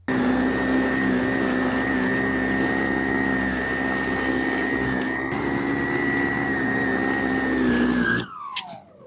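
Senix 60V battery snow blower running steadily while clearing a driveway, a loud continuous motor hum with a tonal whine that holds for about eight seconds, then cuts off abruptly.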